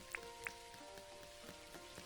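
Rain falling in the video game Dinkum, a faint steady patter with a couple of brighter plinking drops and a soft low hum beneath, quiet and without talk.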